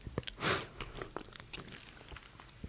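Close, quiet bites and wet chewing of food with ice in it, a crisp crunch near the start followed by soft irregular mouth sounds, intimate and detailed in an ASMR setting.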